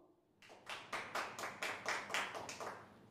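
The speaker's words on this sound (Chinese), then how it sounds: "下面让我们一列热烈的掌声有请本场比赛的主裁判" Applause welcoming the referee at a Chinese pool masters final in Guangzhou, sounding as a handful of distinct, evenly spaced claps, fairly quiet, with no talk.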